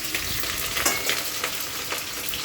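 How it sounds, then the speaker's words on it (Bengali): Onions fry to a reddish-brown for mutton kosha in a steady, close sizzle, with light stirring scrapes over it for a couple of seconds. "এবার কি পেঁয়াজটা ভাজবে? হ্যাঁ, লাল লাল করে ভাজবো টুকটা।"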